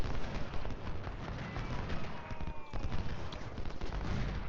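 Massed musket fire on a Civil War battlefield in Ultimate General Civil War during a Confederate defence of a supply depot: a continuous crackle of distant volleys rolls on without pause, with a faint voice underneath.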